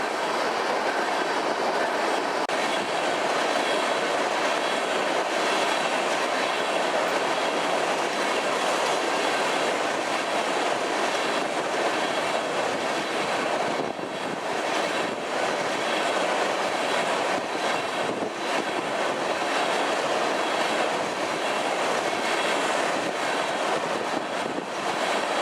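An empty northbound BNSF crude oil train led by an SD70ACE locomotive rolls past near Oklahoma City, its wagons producing a loud, sustained rumble and rattle with steady clickety-clack throughout.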